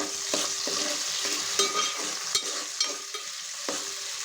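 Onion, green chilli and tomato pieces frying in a pan, a steady close sizzle with occasional stirring scrapes and clinks, no talking.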